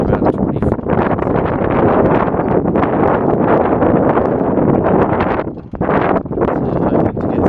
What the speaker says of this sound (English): This is good, we've got a nice bit of wind